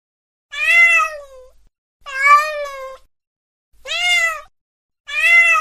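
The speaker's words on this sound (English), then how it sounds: "Cat." Four separate, clear cat meows, each a drawn-out, tonal cry with gaps of silence between them, sounding close and alone with no other noise.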